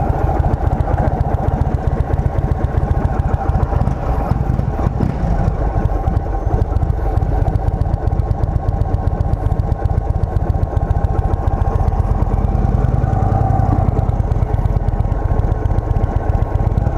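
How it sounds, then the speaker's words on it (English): A 2023 Indian Sport Chief motorcycle engine runs steadily at close range, a loud, continuous low throb with a rapid pulsing rumble that holds throughout with no talking. "Boy, this bike sounds good."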